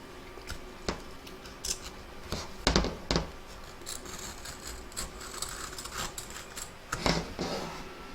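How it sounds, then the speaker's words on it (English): Scissors trimming the fabric around the edge of an in-the-hoop embroidered coaster, a series of close, crisp snips and rustles scattered over a steady background hiss. "trim around the edge of your coaster"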